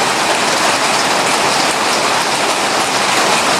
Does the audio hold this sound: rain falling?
yes